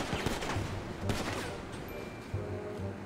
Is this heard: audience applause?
no